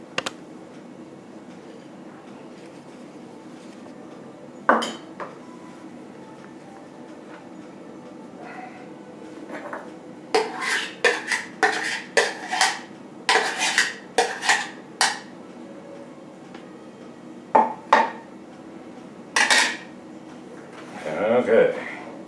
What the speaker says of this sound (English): what we're going to do is mix this up